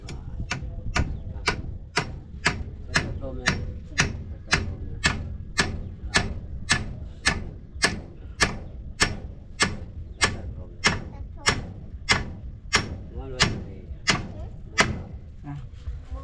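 Eight-penny nails being hammered into wood during outdoor building work, a steady series of sharp, regular strikes roughly every half second, close and prominent throughout.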